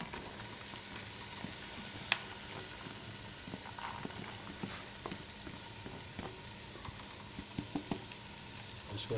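Boiled chana dal is stirred into frying masala in a pan, giving a low, continuous sizzle broken by scattered spoon taps and scrapes. The sound is close and faint.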